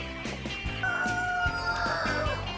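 Chickens on a premium membership-only poultry farm cluck and crow continuously and loudly, a dense close flock chorus with a rooster's call rising above it.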